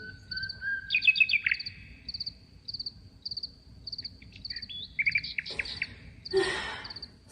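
A nightingale's bright, trilling song rings out in varied bursts in a small garden over a steady, high insect chirping, with some rustling near the end.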